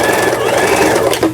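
A Lion 419S sewing machine stitches a straight seam and then a reverse seam, giving a steady, close mechanical whir with fast rhythmic needle chatter that runs unbroken for just over a second.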